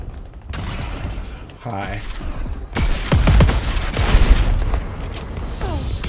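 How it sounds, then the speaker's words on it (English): Rocket launcher blasts in a video game shooter, heavy booming explosions and mechanical clanks arriving in bursts, with a brief voice over the noise and a whooshing sweep near the end. "Switch over to my big-ass rocket gun."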